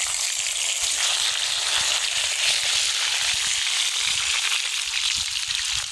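Loud, steady sizzling of potatoes frying in hot oil outdoors over a fire, a dense continuous crackle close up with no talking.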